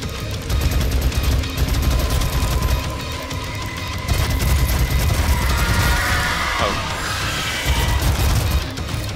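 A big gun firing in the video game DOOM (2016), with a dense, loud, continuous barrage of blasts and booming impacts under heavy game noise and no talking.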